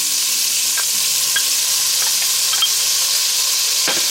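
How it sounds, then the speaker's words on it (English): Onions and garlic sauté in annatto-colored oil in a pan for Filipino pork menudo, giving a steady broadband sizzle with faint stirring clicks and a utensil knock near the end, close and continuous with no talk. "I'm going to add my onions and my garlic into the oil"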